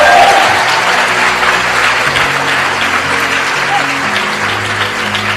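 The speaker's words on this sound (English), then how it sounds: "Give yourselves a round of applause." Loud, sustained applause from a large audience fills the space, with musical tones playing underneath.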